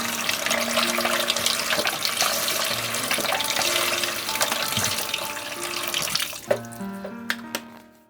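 Cool tap water runs steadily into a sink to rinse a raw chicken, a continuous broadband splashing rush that cuts off near the end, leaving a few faint clinks and kitchen sounds.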